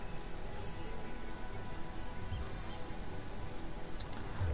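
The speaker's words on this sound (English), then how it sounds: "Let us make it rain." A rain spell cast in Divinity Original Sin brings steady, dense rainfall pattering across surfaces, continuous and fairly loud throughout with no talking.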